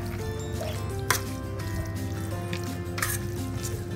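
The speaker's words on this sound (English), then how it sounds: "Okay, all that paste goes in, and nicely mix it up" Chicken pieces are stirred by hand through a marinade paste for dairy-free chicken tikka, giving soft wet squelches and faint drips that stay close and quiet over a low background hum.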